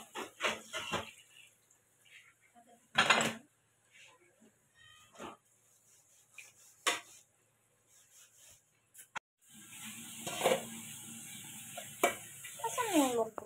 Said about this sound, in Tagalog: Lagay ko itong sabaw ng baka.